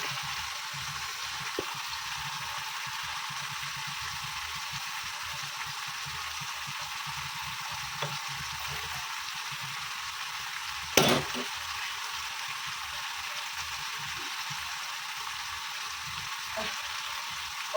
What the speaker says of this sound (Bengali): এখানে মাছের ঝালটা স্টক বক করে ফুটছে